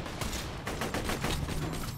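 Rapid gunfire from Borderlands crackles in dense, overlapping bursts close by, a continuous fusillade of shots over roughly two seconds.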